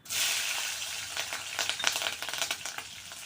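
Green chillies and onions sauté with mustard seeds in a pan, giving a bright sizzling hiss with scattered crackles and pops that get busier toward the end.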